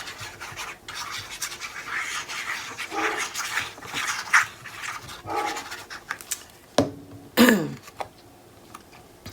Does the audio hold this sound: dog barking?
yes